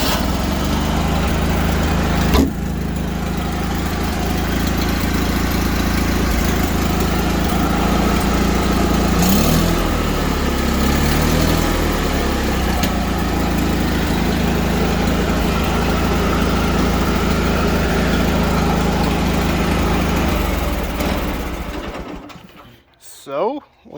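A Honda 5518 tractor engine idles steadily and loudly up close, a continuous rough running drone that holds for about twenty seconds before cutting off near the end.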